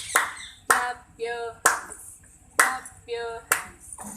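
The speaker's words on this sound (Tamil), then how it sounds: "Clap your hands." Hands clap in a slow, regular beat, roughly five sharp claps spaced about a second apart. A voice sings between them.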